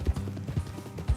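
Horse hooves clip-clop at a steady walking pace in the video game Red Dead Redemption 2, close by, a few distinct thuds in a short burst with no talking.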